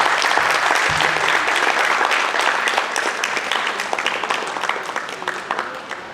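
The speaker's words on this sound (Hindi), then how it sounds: "इनके लिए एक बार जोरदार तालियां" Audience applause for a choreographer at the Kala Manishi 2023 stage event, Namami Devi Narmade: dense, sustained clapping from a crowd that stays loud and steady for several seconds, then eases slightly toward the end.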